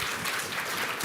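Audience clapping for panel speakers at a North Carolina food access event, a dense steady wash of applause from a roomful of people, moderately loud and continuous with no voices over it.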